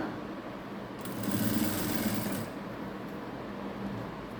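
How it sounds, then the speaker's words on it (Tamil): A sewing machine runs a line of stitching along a fabric edge on a neckline backed with paper canvas. It is one fairly quiet, steady burst of humming rattle over a soft background. "ஓரத்தில் ஒரு தையல் போட்டுட்டு வந்துடுங்க நல்லா"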